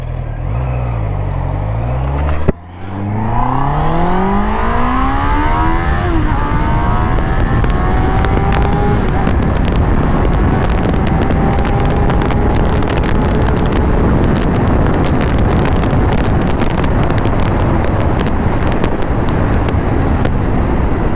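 A Honda CB650R motorcycle accelerates hard on an open highway, its engine note rising steadily through the gears with a brief shift gap, then a sustained high whine under heavy wind rush.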